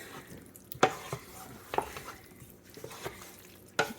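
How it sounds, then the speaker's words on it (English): Potato salad dressed with extra mayonnaise being lightly stirred in a bowl, with soft wet scraping and a few sharp spoon clinks against the side, spaced irregularly. "And then I'm going to lightly stir it"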